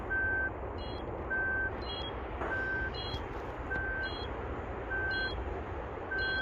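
Short electronic beeps from an avalanche beacon repeat at a regular pace, a high double-pitched tone pattern over steady rumbling background noise.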